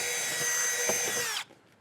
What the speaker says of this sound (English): Measure not even once, drill once.